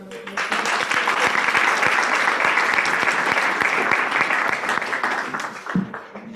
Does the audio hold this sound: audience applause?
yes